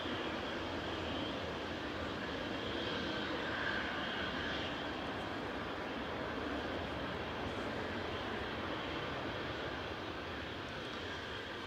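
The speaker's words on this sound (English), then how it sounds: "That's Ryanair 3127 from Marrakesh, operated by GR UKE. That's a 14-year-old 737-800." Ryanair Boeing 737-800, fourteen years old, arriving at Manchester Airport from Marrakesh, a steady broadband jet roar that holds level throughout at moderate distance, with no voices.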